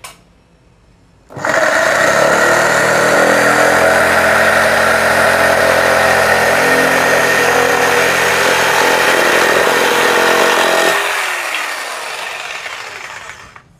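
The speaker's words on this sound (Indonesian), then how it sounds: "feel yang saya rasakan dari jigsaw DCA AMQ85 ini adalah powernya besar, ya, RPM-nya tinggi" A DCA AMQ85 jigsaw switches on abruptly and runs at a loud, high-revving steady whine for about ten seconds, then winds down and fades out.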